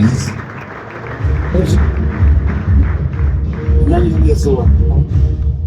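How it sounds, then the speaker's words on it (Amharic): A church congregation claps together in a steady, dense wash of applause that keeps going for several seconds. A loud voice carries over the clapping throughout. "ለጌታ ክብር አጨብጭቡ"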